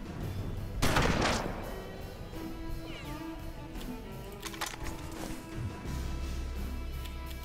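Gunfire in the turn-based game Hard West, a loud burst of shots near the start followed by fainter scattered reports and mechanical clatter over a low game ambience.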